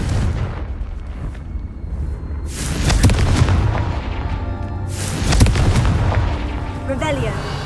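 Fiery Confringo blasting spells in Hogwarts Legacy on PS5 land as two loud, crackling explosive bursts a few seconds apart, each trailing off into a rumbling roar over busy game sounds.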